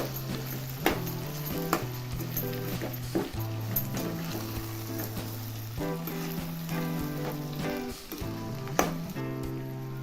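Mixed vegetables for a traditional Bhogi bhaji sizzle steadily in a hot pan as garam masala and coriander powder are stirred in, with frequent scraping knocks of the spoon against the pan over continuous frying noise.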